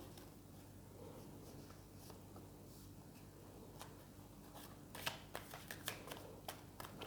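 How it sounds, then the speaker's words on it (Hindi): Tarot cards being shuffled quickly by hand, a soft riffling rustle that builds into a run of sharp, closely spaced card snaps near the end, close and alone with no talk. "जस्ट एक बार और क्विक शफल करूंगी।"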